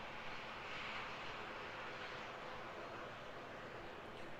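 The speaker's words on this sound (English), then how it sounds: "Gorgeous A330 there, eh? Look at that." A Fiji Airways Airbus A330 airliner at Auckland Airport produces a steady broadband jet roar that swells slightly and then holds, heard from some distance with no talk.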